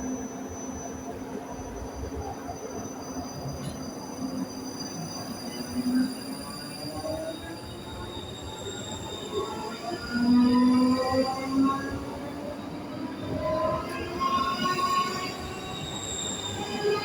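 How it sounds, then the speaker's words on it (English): A passenger train departs at Edinburgh Park bound for Helensburgh Central, with a continuous rumbling run and high, sustained wheel squeals rising and falling as it pulls away, fairly near, no voices. "And off goes our train to Helensburgh Central."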